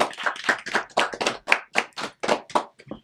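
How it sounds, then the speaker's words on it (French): A small group claps for their trainers at a French community training program, with roughly a dozen separate, fairly close claps in a loose steady rhythm and no talking. "on va les applaudir"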